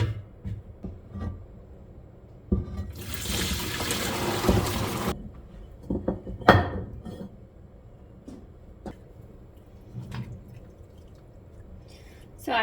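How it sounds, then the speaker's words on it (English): Hot vegetable broth poured and strained through cheesecloth into a large pot, a burst of splashing liquid for about two seconds followed by scattered drips and small clinks. "I have some cheesecloth that I just like to strain it through into like a large pot"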